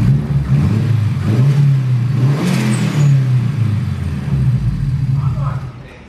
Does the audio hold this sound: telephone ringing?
no